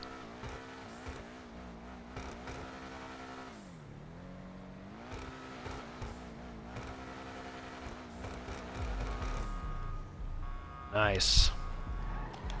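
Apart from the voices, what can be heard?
Benefactor SM722 car engine and exhaust in GTA Online video game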